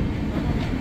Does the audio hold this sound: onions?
no